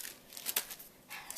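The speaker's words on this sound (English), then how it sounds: "Scissors." Scissors snipping and crinkling plastic packaging while unboxing a Tritton Pro+ gaming headset and its PC adapter, a few short quiet cuts and rustles close to the microphone.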